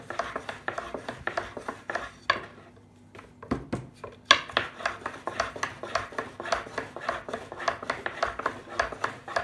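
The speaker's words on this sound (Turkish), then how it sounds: "Bunu 10 santim genişliğinde böyle oklava yardımıyla açıyoruz." Manti dough rolled out with a long wooden rolling pin, rapid rhythmic knocks and rubbing strokes with a brief pause, close and steady.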